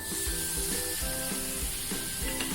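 Two spoons of milk cream drop into a sweet milk mixture cooking in a pan for a Gujarati mithai, producing a steady close sizzle and soft bubbling with rhythmic scraping stirs throughout.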